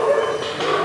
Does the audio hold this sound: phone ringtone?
no